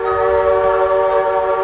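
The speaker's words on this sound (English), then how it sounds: "The station master gives a whistle to let the train driver know it's all clear" A loud, steady whistle blast rings out as a train gets the all-clear to leave the station, a rich multi-toned note held unbroken throughout over a low rumble, with no voices.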